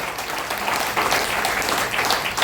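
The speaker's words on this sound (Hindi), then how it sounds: "और जोरदार ताली होना चाहिए अग्रवाल सर के लिए।" A crowd at a business seminar claps loudly and continuously, a dense, close wash of applause lasting a couple of seconds.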